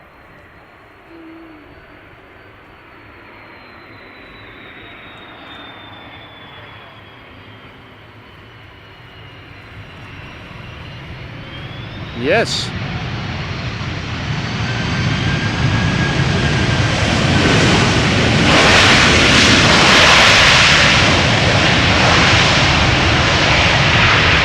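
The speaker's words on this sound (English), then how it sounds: "Another A330. Let's take a listen." An Airbus A330 jet airliner landing at Schiphol swells from a distant whine into a loud, broad roar as it passes close, the rumble building and holding near the end; one brief word is spoken.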